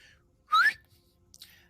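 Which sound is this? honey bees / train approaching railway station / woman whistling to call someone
woman whistling to call someone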